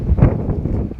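Strong wind at a rugby match between ASM and Stade Français youth teams, a loud steady rumbling buffet of gusts hitting the microphone with no speech heard.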